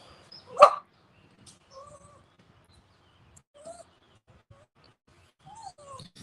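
A dog gives one sharp bark near the start, followed by soft whimpers and faint whines scattered through otherwise quiet surroundings.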